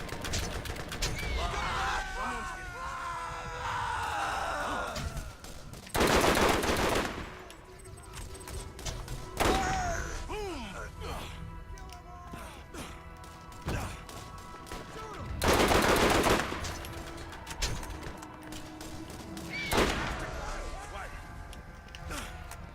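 Gunfire in the game Borderlands, with loud bursts of automatic fire and single shots breaking through a busy mix of music and effects, while a voice talks in between.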